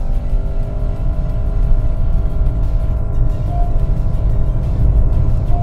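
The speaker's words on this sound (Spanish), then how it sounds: "voy a hacer una primera prueba de aceleración para contarte sobre el terreno y directamente cómo se comporta. Pie izquierdo al freno, gas a fondo" A 2024 Honda CR-V hybrid SUV pulls away under full throttle from a brake-held launch, a loud sustained engine roar with road rumble heard from inside the cabin.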